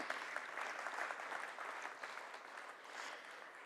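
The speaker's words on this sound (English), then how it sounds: "Can we give them a warm round of applause?" Warm audience applause at a green hydrogen summit in Oman as speakers are invited on stage, a dense, even spread of clapping that holds steady for several seconds at moderate distance.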